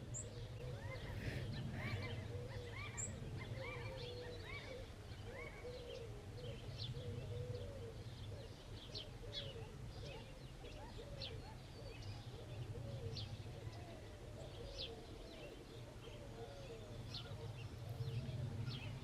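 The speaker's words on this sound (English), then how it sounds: "The cooing's getting stronger." Doves cooing at dawn, soft repeated coos in a steady rhythm over a low constant hum, mixed with scattered chirps from other birds at moderate distance.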